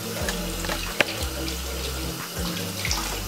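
Tap water running into a sink while washing carrots for carrot sandwich bread, a steady splashing stream with gurgling flow and a brief clack partway through, close and continuous, no talk.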